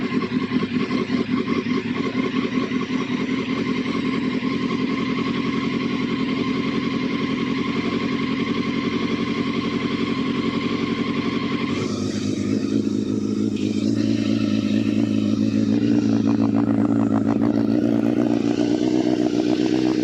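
A motorbike engine runs steadily after a cold start, close and loud, idling evenly before its note shifts partway through and carries on with a rougher, clattering tone.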